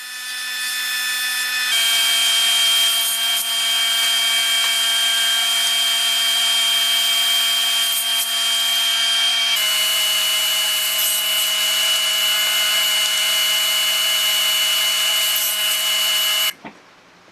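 A saw rips poplar boards to width for a coffee table build, a loud sustained whine that shifts pitch as the cut begins and again midway, then stops near the end, with no talking.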